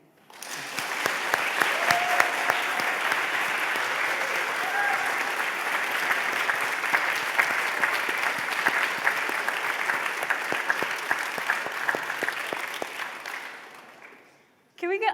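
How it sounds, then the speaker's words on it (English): An award ceremony audience breaks into sustained applause, a dense wash of clapping that holds steady and loud for over twelve seconds before fading out quickly at the end. "another round of applause for our grand prize winner,"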